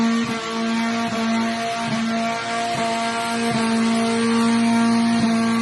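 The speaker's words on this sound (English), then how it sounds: "I did a little burnout in it" Engine of a Honda Civic, apparently a 2000 model, roaring steadily at high revs during a burnout with a broken CV axle, a sustained loud drone with faint rhythmic pulses and no talk.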